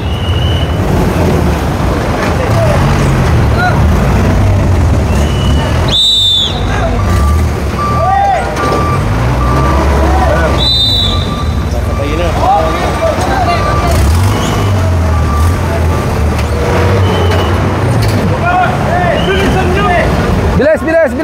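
A truck's reversing alarm beeps intermittently through loud, busy outdoor noise of engines and wind, with people talking over it.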